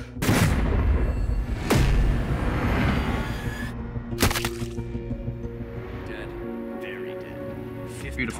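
Sniper rifle shots in a war video game, two loud cracking reports a couple of seconds apart with booming tails and a third sharp bang later, amid voices and battlefield ambience.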